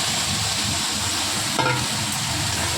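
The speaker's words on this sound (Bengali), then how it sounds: "ভালো করে নেড়ে নিচ্ছি।" Chana dal being stirred into jackfruit curry in a frying pan, a continuous loud close sizzle with a brief scrape of the spoon partway through, no voices.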